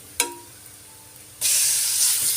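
Chicken breast pieces drop into a pan of frying garlic over moderate heat: a short clatter, then a sudden loud, steady sizzle that continues close by.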